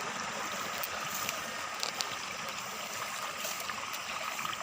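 A small creek flows steadily over a continuous bed of trickling, splashing water, with a few faint ticks and plops, close and even throughout, with no talk.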